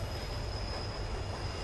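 A train rolls along in the horror game She Waits in the Dark, a steady rumbling ride with a thin, sustained high wheel squeal running through it, heard alone without talk.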